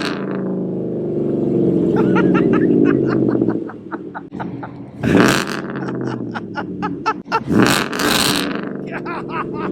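A loud, rumbling exhaust on a 2021-or-newer Ford F-150 pickup with aftermarket headers revs hard, with crackling, popping pulses and two sharp roaring surges. It's close and harsh, with no talking.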